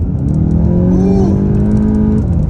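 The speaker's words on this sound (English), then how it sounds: "once you like really lean into it, the transmission's forced to downshift, and you get that really strong surge of power" A 2022 VW GTI with the 7-speed DSG accelerating at full throttle, its engine note climbing loud and close inside the cabin as the transmission downshifts into a strong surge of power.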